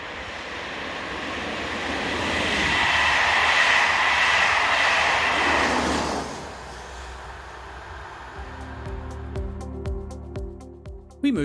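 BB37000 electric locomotive train passing on the rails, a broad rushing roar that swells and fades, followed by rhythmic clickety-clack of wheels over rail joints as the carriages go by.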